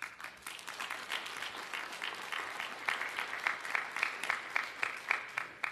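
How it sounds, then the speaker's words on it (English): A church congregation applauds continuously during a Sunday service, steady clapping that swells slightly in intensity toward the end, with no voices over it. "give yourselves a round of applause"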